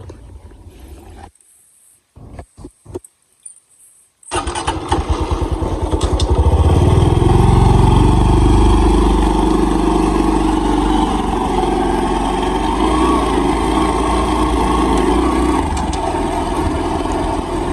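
A motorcycle ridden around a village merit festival: after a few seconds of broken, choppy sound, the engine hums steadily and loudly up close, swelling as it accelerates and then holding a continuous drone with wind noise.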